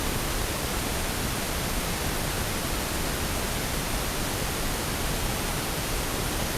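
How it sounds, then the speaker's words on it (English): A pink noise test signal plays as a steady, even hiss across the whole range, constant in loudness from start to finish with no other sounds. "I'll play a little audio sample of pink noise real quickly"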